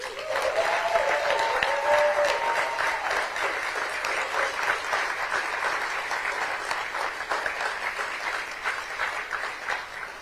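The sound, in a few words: audience applause for former President Mary Robinson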